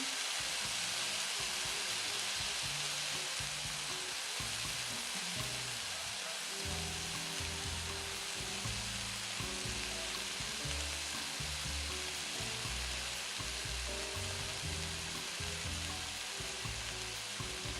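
Two steaks sear in hot oil in a pan, a steady, loud sizzle and crackle that runs unbroken throughout with no talking.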